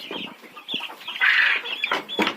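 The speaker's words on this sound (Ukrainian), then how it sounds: "Зараз погодувати треба курочок" Hens cluck in short bursts nearby, a cluster of overlapping calls rising and falling with a few sharper squawks.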